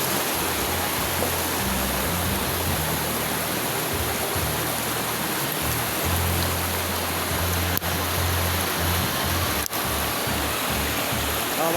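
Water flows and rushes in a steady loud wash, like a stream or small waterfall close at hand, with a low rumble underneath and two brief clicks partway through.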